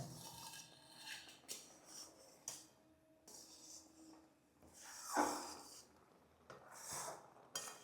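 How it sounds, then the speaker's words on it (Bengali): Semolina pudding with milk being stirred in a pot, heard as soft intermittent scraping and rubbing of a spoon against the pot, with quiet pauses between strokes. "খুব ঘন ঘন এটাকে এবার নাড়তে হবে।"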